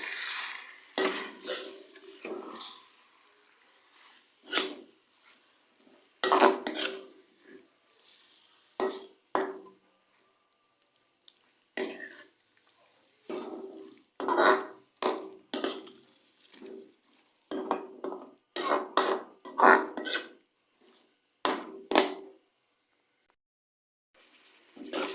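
Fish pieces being mixed with spice powders, including cumin powder, in a bowl for Lahori fish fry, heard as intermittent soft clinking and scraping bursts with short pauses between them.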